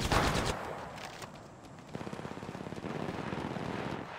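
Gunfire rattles in the Apex Legends video game. Rapid automatic bursts come fairly faint and steady, after an earlier sharp blast.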